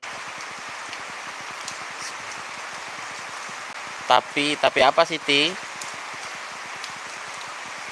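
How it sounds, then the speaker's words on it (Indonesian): Steady rain hisses evenly around a house for the whole stretch, with a brief burst of someone talking partway through. "Hujan."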